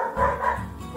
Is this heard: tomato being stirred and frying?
no